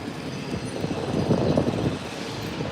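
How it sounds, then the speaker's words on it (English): Steady loud mechanical rumbling with rapid pounding texture fills the clip, jackhammering nearby on a city street, with no voices. "Do you hear all that jackhammering?"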